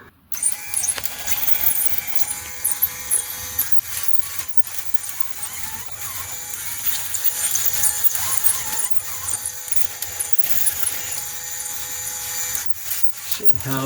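Meccano model dual rapier loom running, a continuous busy mechanical clatter with rubbing, squeaking and rhythmic knocks from the moving rapiers, close and fairly loud throughout, without talk.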